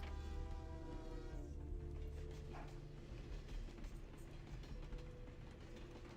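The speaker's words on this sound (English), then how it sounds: "I think it's just like train yard noises." Continuous mechanical rumble with clanks and faint metallic tones of a train yard in the video game Vampire: The Masquerade – Bloodlines, steady and fairly low in level.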